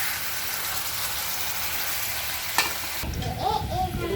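Thin hilsa fish pieces cooking down in a pan, heard first as a soft, steady hiss and then as a louder, bubbling sizzle after a sharp clink partway through.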